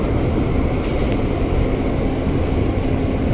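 A KRL commuter train runs near Cikarang, Indonesia, heading toward the elevated Cikarang station. Its loud, steady rumble of wheels and carriage continues without a break, and no one speaks.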